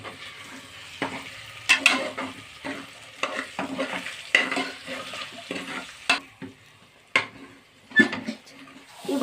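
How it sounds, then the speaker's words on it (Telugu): Spices like chili powder and turmeric being stirred into frying food in a pan, with irregular scraping and clattering strokes of a spoon against the pan over a soft sizzle, close and alone. "తగినంత కారం మరియు తగినంత పసుపు వేసుకొని బాగా కలుపుకోవాలి ఫ్రెండ్స్"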